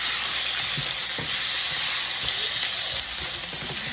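Marinated meat seasoned with smoked paprika and cumin sizzles steadily in a hot pan, a continuous close frying hiss with a few soft knocks as pieces are flipped.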